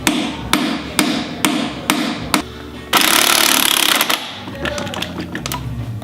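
Impact gun hammers at a destroyed nut through a socket that has been hammered on, firing short rattling bursts in a steady rhythm, then a longer continuous burst, then quieter uneven rattling, all close and loud.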